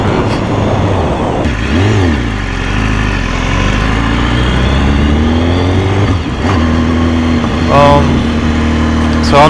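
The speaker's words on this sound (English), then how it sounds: "This is a very smooth engine." A 2015 BMW S1000RR motorcycle engine on a test ride hums and revs up and down with rising and falling pitch, steady and close over rushing wind, with a voice speaking at times.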